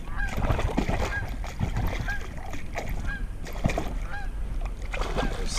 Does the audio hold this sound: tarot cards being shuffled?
no